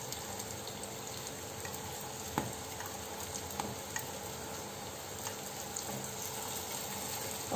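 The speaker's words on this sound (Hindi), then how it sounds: "हमारी टिक्कियाँ एक तरफ से बहुत अच्छी क्रिस्प फ्राई हो गई हैं, तो इन्हें पलटकर फ्राई करेंगे।" Corn flour tikkis fry in a pan with a soft, steady sizzle and bubbling of oil, broken by a few light clicks and taps, with no talking.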